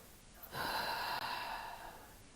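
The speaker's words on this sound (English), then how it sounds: "Just take a deep breath." A single long, deep breath drawn in close to the listener, a steady airy rush lasting a couple of seconds and gradually easing off, heard alone with no talking.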